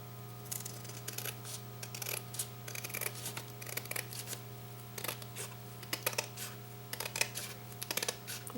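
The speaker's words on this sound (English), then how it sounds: "I'm just going to use my scissors and trim that down" Scissors snip and trim paper for a Christmas shadow box craft, a series of quick crisp cuts in irregular bursts, close but fairly quiet over a steady low hum.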